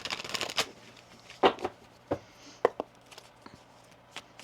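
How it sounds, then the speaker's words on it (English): A deck of tarot cards is shuffled by hand in quiet, close bursts: a quick riffle, then a series of separate sharp slaps and flutters spaced irregularly over a few seconds. "One more shuffle."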